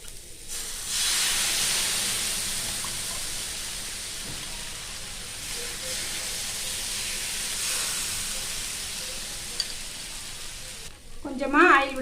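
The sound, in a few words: dosa batter sizzling on hot pan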